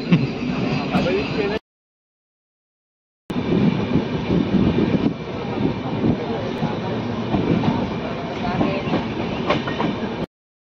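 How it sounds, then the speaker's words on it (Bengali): A passenger train runs toward Howrah, a steady rumbling roar of wheels on rails with rattling carriage noise and occasional clacks, heard from inside with voices talking underneath, briefly cutting out near the start. "এখন ট্রেনে যাচ্ছি"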